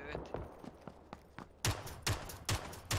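Gunfire in the PUBG battle royale game: a few faint scattered shots, then four loud, evenly spaced bangs in the second half, with a player's voice heard over the action.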